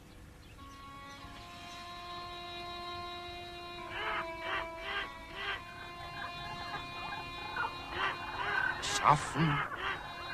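Strange, screeching bird cries serve as a sound effect in the 1961 film Antigone. The harsh, honking calls build from faint to louder in uneven bursts, with a brief spoken word among them.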